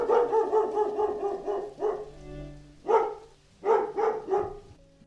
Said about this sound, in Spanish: Y lo propio sucedió con un perro que ladró